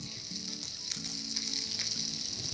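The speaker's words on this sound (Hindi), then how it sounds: "चिकन को लाइटली ब्राउन होने तक मुझे हल्का हल्का इसे सौते करना है।" Steady, bright sizzling of chicken sautéing in a hot pan, continuous throughout, with faint clinks of stirring underneath.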